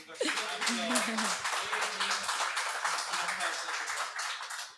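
Crowd applause fills the clip, a dense wash of clapping from many hands, with a voice speaking over it near the start.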